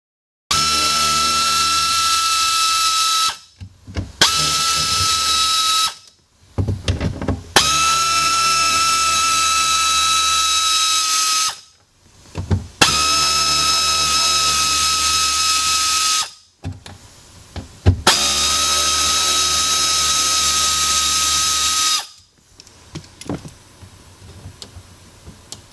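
Power driver backing out screws from a boat fuel tank sending unit, several sustained whirring runs of a few seconds each separated by brief pauses, close and loud, with a ratcheting tick at the end.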